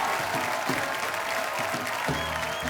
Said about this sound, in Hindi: एक बार जोरदार तालियां कुछ रंग प्यार के ऐसे भी पूरी टीम के लिए।